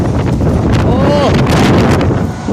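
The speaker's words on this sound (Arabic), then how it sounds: "رياح رياح رياح" Strong stormy wind roars and buffets hard against the microphone without a break, loud and gusty, with a voice briefly heard under the din.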